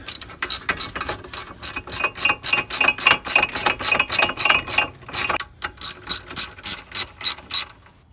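A ratchet tightens the 15 mm caliper bracket bolts on a Ford Taurus during a brake rotor job. Loud, steady clicking bursts repeat in quick rhythm, with a short pause before the cranking resumes. No one speaks.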